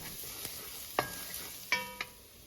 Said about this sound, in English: Once the oil is heated, add the garlic and chilies.